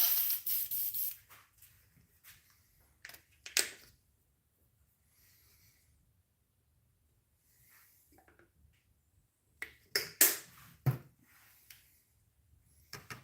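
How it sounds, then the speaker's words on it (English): Short sharp hissing bursts from an airbrush being blown clean, scattered in quick spurts at the start and again later, with quiet gaps between them. "So we got to get the airbrush cleaned off."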